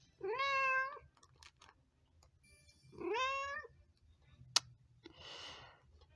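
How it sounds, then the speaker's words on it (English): Cat meowing: two clear, drawn-out meows spaced a few seconds apart, close and distinct, with a sharp click and a short breathy rustle between and after them in a quiet room. "I need to deal with the cat"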